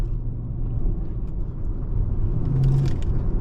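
A 2012 Chevrolet Camaro SS V8 engine rumbling while driving, a deep steady low growl heard from inside the car that swells slightly toward the end, loud and without talk.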